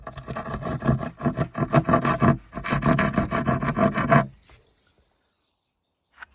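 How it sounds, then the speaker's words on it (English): Half round rasp filing away the damaged trailing edge during a structural repair on wood, rough rhythmic strokes loud and close for about four seconds, then silence. "So the first stage is to clean up all the damaged area. Rasp."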